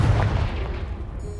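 Confringo fire spell in the Hogwarts Legacy video game blasting a pile of debris blocking a stairwell: a single heavy, booming explosion, loud and close, that rumbles and fades over about a second.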